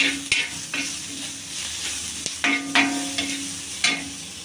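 Salted onion sautéing in a pan, a steady sizzle punctuated by several distinct spatula scrapes and knocks against the pan at irregular intervals, close and clear with no talk.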